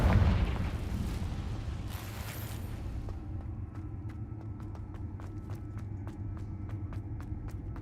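A Confringo blasting spell explodes in the Hogwarts Legacy video game with a loud, broad burst at the start that settles into a rumbling tail, followed by a steady run of light rhythmic taps like footsteps.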